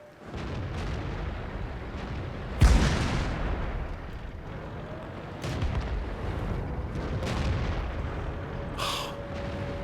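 Tank cannons fire in a World of Tanks battle, one sharp loud boom near the three-second mark followed by rumbling engine and battle noise, with fainter shots and a brief metallic ping later.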